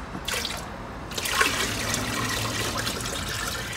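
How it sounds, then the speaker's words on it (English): Clean water is poured into a container for a DIY screen-printing filtration setup, a steady splashing gush running the whole time and loud, close, with no speech. "Toss some clean water in here."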